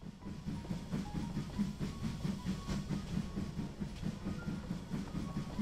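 Virtual train in the VR shooter Hot Dogs, Horseshoes & Hand Grenades, rumbling steadily with a repeating clickety-clack rhythm, faint and continuous with no voices.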